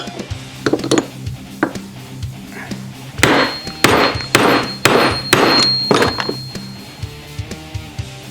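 Hammer blows clang against metal, driving a bearing into a Wildcat 1000 rear differential case, first a few scattered taps, then a rapid flurry of loud ringing strikes close by, tapering off at the end.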